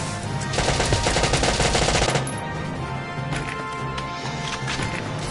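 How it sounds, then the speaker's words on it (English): Rapid automatic gunfire rattles loudly in the first two seconds of a video game battle. After that, scattered shots and combat noise continue at a lower level. "Damn it, I'm under fire."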